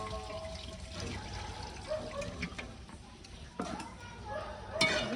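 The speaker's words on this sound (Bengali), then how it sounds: "এবার আমরা জল ঢালবো" Water is poured into a pot of duck meat curry, a running splash and trickle with a few clinks, under faint background voices.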